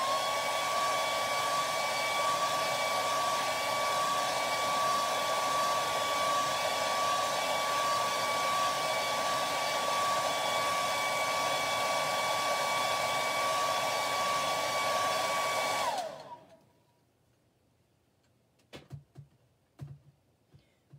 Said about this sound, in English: we're going to hit at it with a blow dryer really quick